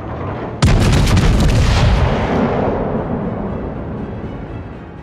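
Heavy naval guns of the Gneisenau firing in World of Warships: one sudden loud boom of a salvo, then a long rumbling roar that slowly fades, with no voices.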